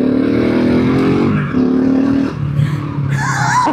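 Car heading onto a gravel mountain road in Italy, its engine humming loud and steady from inside, easing off and pulling again, with a higher whine near the end.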